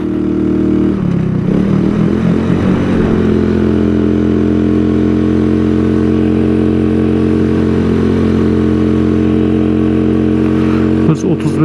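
A 110cc Cup scooter engine droning steadily while riding, with a constant mid-pitched hum that drops in pitch early on and then holds even, close and loud throughout.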